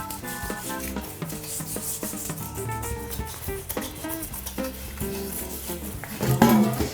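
Bathroom surfaces are scrubbed and wiped during cleaning, producing close, uneven rubbing and brushing strokes in quick bursts, with background music playing throughout.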